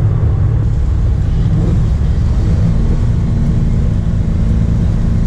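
A 1981 Camaro Z28 pro-touring car with a T-56 gearbox and B&M Ripper shifter, running hard on the road. Its engine drones deep, loud and steady for the whole stretch, with no voices over it.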